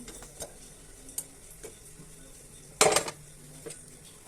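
Prawns stir-fry in a pan under a soft background sizzle, broken by light taps and clicks of a utensil and one louder scraping clatter partway through.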